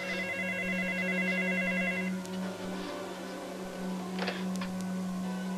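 A telephone rings with repeated electronic trills, loud and steady for about two seconds before the pattern thins out, with a low hum underneath and no talking.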